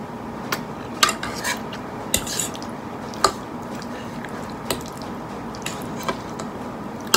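Someone eats spicy ramen from a bowl, with utensils clinking and scraping against it in scattered sharp taps over soft slurping and stirring noises, close up and without talk.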